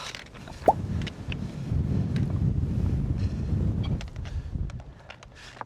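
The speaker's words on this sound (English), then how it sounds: "It's a windy bugger." Wind gusts roar across the microphone on a Lake District mountain summit near Mardale Ill Bell, in a steady, buffeting rush, with a brief sharp squeak near the start and a few clicks later on.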